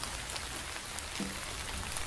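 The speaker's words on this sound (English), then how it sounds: "the rain starts pouring down" Heavy rain pours down steadily in an otome video game, a dense, even hiss of drops on surfaces with no voices.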